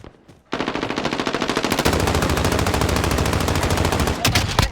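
Rapid automatic gunfire from a Call of Duty: Warzone match bursts in after a short quiet start, a loud, sustained stream of closely spaced shots running almost unbroken to the end, with no talk over it.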